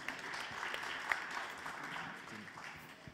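Faint, distant audience applause at a recruiters' pitch event, a soft steady wash of many hands clapping that fades slightly over a few seconds.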